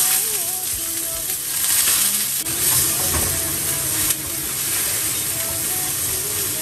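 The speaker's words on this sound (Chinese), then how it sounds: "锅里加点油，油热了，把这个鱼放下去煎。" Golden threadfin bream frying in hot oil in a home wok, a dense continuous close sizzle and hiss with occasional faint clinks, no voices.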